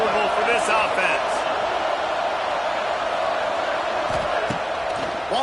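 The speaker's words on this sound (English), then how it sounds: "This crowd trying to make life miserable for this offense." A stadium crowd in the NCAA 26 college football video game keeps up a loud, continuous roar against the offense, with a commentator's voice running over the din.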